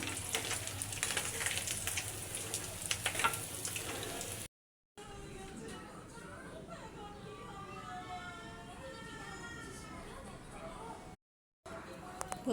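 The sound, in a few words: mrigal fish roe frying in a pan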